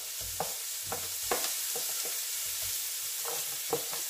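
Onion and garlic sautéing in a pan for a coconut milk dish with crab, string beans and squash, a soft steady sizzle with light repeated stirring taps, close and fairly quiet.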